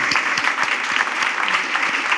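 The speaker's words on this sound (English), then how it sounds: "Big round of applause," Brisk audience applause at a product management fireside chat, loud, even and continuous with individual claps standing out in the mix.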